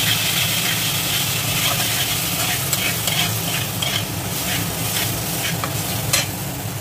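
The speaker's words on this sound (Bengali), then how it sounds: "এই তিনটাকে একটু ভালোভাবে ভেজে নেব তেলে" Coriander, cumin and fennel seeds frying in oil in a wok, a steady close sizzle and crackle with occasional sharp pops and light stirring scrapes, no speech.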